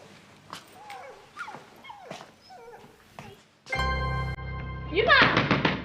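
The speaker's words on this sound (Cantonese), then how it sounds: "聽唔聽到好似有啲狗仔喺度叫咁嘅？" Puppies whimper and yelp in a TV crime drama scene: voices talk at first, then a sustained whining cry begins and rises into higher, wavering whimpers near the end.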